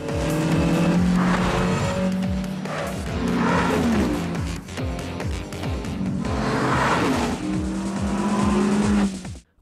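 Race cars roar past in a filmed race, engines whining and rising in pitch with tire squeals and skids, several loud close passes overlapping in quick succession.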